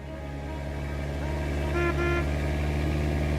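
Car horn in The Stanley Parable: Ultra Deluxe, one sustained loud blare held at close range for the whole stretch, steady and unbroken, with no voices.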